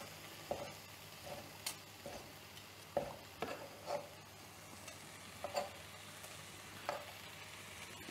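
Bite-sized chicken pieces sizzle in a cast iron pot for Korean fire chicken, a quiet steady frying hiss broken by occasional scraping stirs, with no talking.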